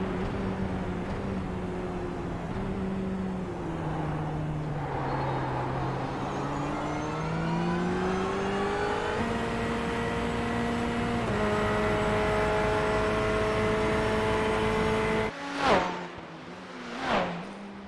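Restricted race car engines revving in a racing video game at Daytona International Speedway at night, a continuous droning engine note rising and shifting pitch through gear changes, then two sharp passing bursts near the end.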